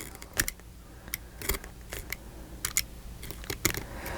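Small scissors snip repeatedly at paper on a mini album's front cover, a string of sharp close crisp cuts in uneven bursts with quiet gaps between.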